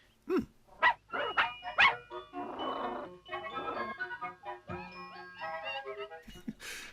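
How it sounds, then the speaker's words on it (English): A dog barks several times in short sharp bursts, then lets out a rough, rumbling growl with whining yips, fairly close and clear. "the growling dog heading towards her"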